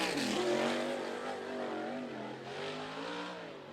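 A USAC sprint car at Ocala screams loudly through a turn, engine note rising and shifting steadily as it powers onto the straight, close and continuous.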